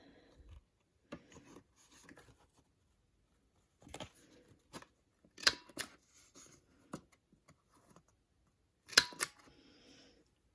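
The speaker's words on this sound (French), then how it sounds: "Alors j'avais pris cette perforatrice." A corner-rounding paper punch works on paper for a handmade Christmas mini album, producing scattered rasping clicks, crunches and rubs in irregular bursts, with the loudest snaps clustered near the end.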